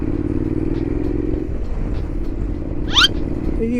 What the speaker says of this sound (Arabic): هذا الموتور هذا رجعته هوندا